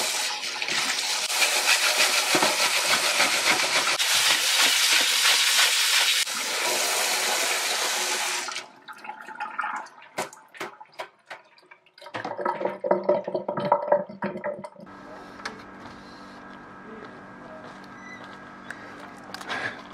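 Water sprays hard onto a computer keyboard in a loud, hissing rush for several seconds, then gives way to drips, clatter and intermittent splashing, with another softer stream toward the end.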